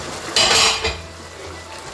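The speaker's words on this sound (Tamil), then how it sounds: "இந்த காலகட்டத்தில் நான் இப்போ ஃபிஷ் கேக் போட்டுக்கிறேன்" Fish cake goes into a frying pan with water while mee goreng is being cooked: a short, close metallic clatter and scrape against the pan that quickly fades to a quiet kitchen background.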